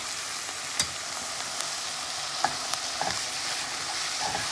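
Thyme, two bay leaves and diced tomatoes are stirred into a sizzling pot of chicken bog, giving a steady frying hiss broken by several sharp spoon scrapes and clinks against the pot.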